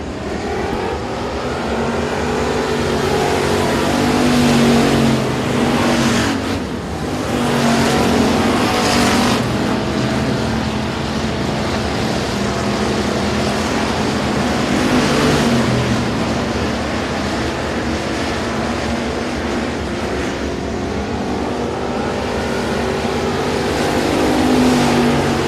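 Race cars lapping Sabine Speedway during a session under green flag, a loud continuous roar of engines with repeated swells as cars pass close by, rising and falling across the clip.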